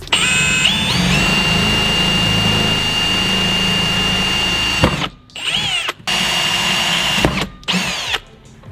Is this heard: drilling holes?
yes